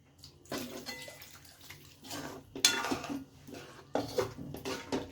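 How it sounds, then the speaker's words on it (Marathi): Ground masala water poured into a pan of prawn curry, coming in several separate splashing bursts with light clinks of the pan and utensils between them, close and moderately loud. "मी हे वाटणाचंच पाणी घालते ह्याच्यामध्ये"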